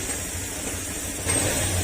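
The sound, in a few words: car engine running after ECU replacement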